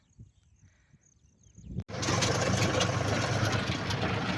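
A tractor engine starts up after a quiet moment and keeps running with a loud, steady low chugging rumble.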